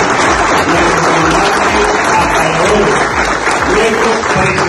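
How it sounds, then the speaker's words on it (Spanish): Loud crowd applause at a commercial meeting at Hidroven honoring the president, steady clapping with voices mixed in beneath. "nuestro presidente Nicolás Maduro Moro, que le damos un fuerte aplauso."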